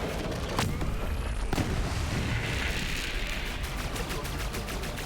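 Bombs exploding in Borderlands 3, a continuous dense barrage of booms and blasts with a couple of sharp cracks early on, loud and sustained throughout.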